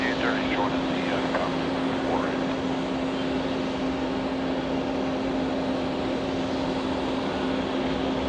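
A Delta Boeing 767 airliner at JFK airport gives a continuous broad jet roar with a steady tonal whine, heard from a distance and unchanging across the stretch, with faint chirps over it.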